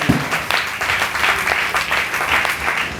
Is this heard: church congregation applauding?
yes